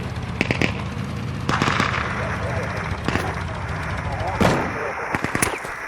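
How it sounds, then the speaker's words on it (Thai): Gunfire in the survival shooter Deadside, heard as several loud sharp rifle bursts spread through the clip over game ambience, with a voice speaking between shots. "ไหนลองทดสอบปืนดีสิ"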